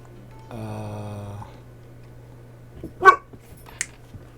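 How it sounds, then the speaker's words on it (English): A dog gives a single short bark, followed by a couple of faint, brief yips against a quiet steady hum, with a drawn-out tonal sound just before it. "Silly dog."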